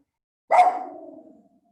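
A single sharp dog bark rings out inside a house, loud and close, then fades away into silence.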